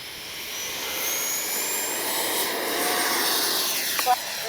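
A Freewing 80mm JL-8 RC jet flies past with a steady, loud turbine roar and rushing air that swells slightly, heard alone without any voices.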